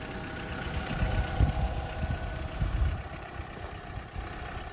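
A Skoda Octavia that sat parked for a long time idles steadily after starting on the first turn of the key, a low, even engine rumble with slight rhythmic pulsing and no voices.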